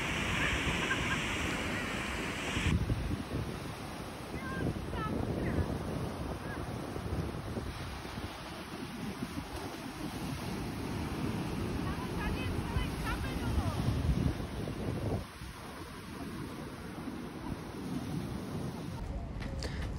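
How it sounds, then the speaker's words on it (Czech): Sea waves breaking on the Greek coast, a continuous rough wash of surf mixed with strong wind buffeting the microphone, steady throughout with a brief dip near the end. "byli jsme se podívat v moře a byly tam zrovna nádherné vlny"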